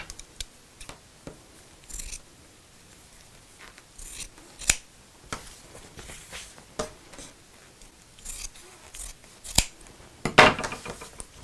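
Scissors snip the fabric edge of a sewn craft bag in a run of close, crisp cuts, irregularly spaced with short pauses and a few quick clusters, with faint rustling of cloth between them and no speech.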